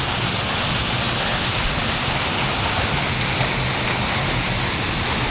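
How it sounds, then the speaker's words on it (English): A waterfall in a quiet Japanese forest near a small shrine gives a steady, loud, unbroken rush of falling water close by, with no voices. "But this is the waterfall that we've been hiking out to."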